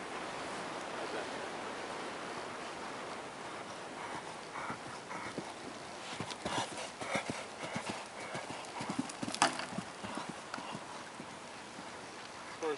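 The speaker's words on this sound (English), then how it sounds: "This horse is, for a big, long, heavy thing, really light across the ground." Horse hooves clip-clop steadily on soft ground, fairly distant, with a faint background hiss and occasional thuds.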